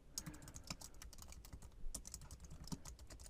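An SQL query is typed on a computer keyboard, a steady stream of quiet, close key clicks in an uneven rhythm, with a few louder strokes and no speech.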